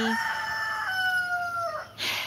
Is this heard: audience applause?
no